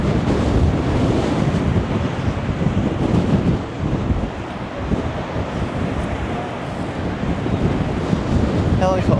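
Strong wind buffets the microphone while rough sea waves surge and crash along the Blackpool promenade, a loud continuous roar with a brief lull midway.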